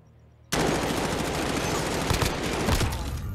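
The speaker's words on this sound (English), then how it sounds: "I don't know what Aphro is shooting at." Dense, sustained gunfire erupts abruptly after a moment of quiet in a competitive elimination video game match, a loud continuous barrage of rapid shots with bursts of heavier impacts running to the end.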